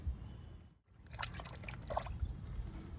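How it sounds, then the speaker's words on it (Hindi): Liquid water is poured into the pot of an oleander plant, a soft trickle and patter of drips that stops briefly after a short splash, then resumes. It is fairly faint and heard on its own. "अब इसमें मैं ये लिक्विड पानी डालूंगी।"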